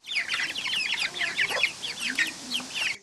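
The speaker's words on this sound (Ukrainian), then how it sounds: "Це китайські пухові кури, їх ще називають шовковими або сілки" Silkie chickens cluck softly and repeatedly at a zoo, a busy overlapping chorus of short clucks close by with no talking.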